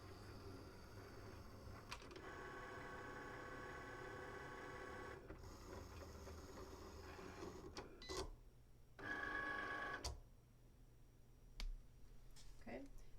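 A Cricut Explore cutting machine makes a confirmation cut. It gives a low, steady whirring hum with soft mechanical clicks and a few louder knocks and bursts of motor noise near the end.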